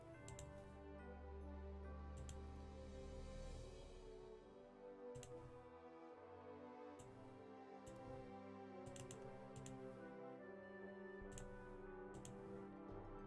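An RPG Maker MV message plugin produces a typing sound effect: small, sharp ticks at irregular intervals over a steady background, fairly faint and with no talking.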